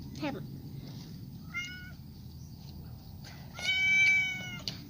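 A cat meows twice: a short call, then a longer, louder, drawn-out meow. Both are close against a low background rumble, with faint voices nearby.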